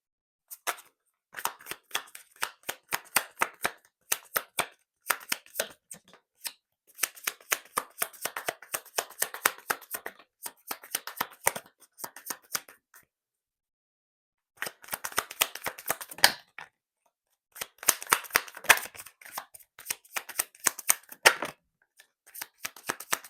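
Oracle cards being shuffled by hand in repeated bursts of rapid crisp riffling clicks, close and fairly quiet, separated by brief silent pauses, no talking.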